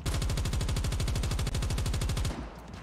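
An S36 gun fires in Call of Duty Mobile as one loud, rapid automatic burst of evenly spaced shots for over two seconds, then stops abruptly.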